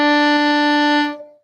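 A low D bowed on a string instrument holds as one steady, resonant tone with strong harmonics for about a second before fading out, close and clear with no other sound.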